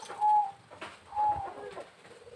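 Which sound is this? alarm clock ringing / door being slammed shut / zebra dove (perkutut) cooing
zebra dove (perkutut) cooing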